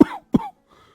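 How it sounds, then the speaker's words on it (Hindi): An old man coughs twice in quick succession, two harsh, close bursts indoors, with a faint trailing breath after the second. "खटिये पर से बूढ़ा रामा खांसते हुए"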